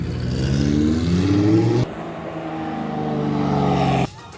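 A McLaren sports car revs hard at a car meet, its loud engine rising in pitch and then cutting off abruptly before a second revving burst from a nearby car, close and with no voices.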